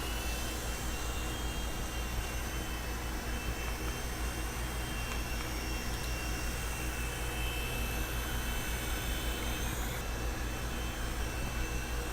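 A helicopter in flight gives a loud, steady, unbroken roar of engine and rotor noise, heard from close inside or near the aircraft, with no talk over it.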